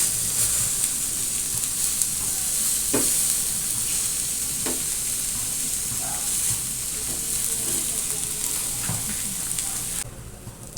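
Tuna sizzles steadily on a non-stick grilling pan, a loud continuous frying hiss with occasional faint utensil taps, close up, fading slightly near the end.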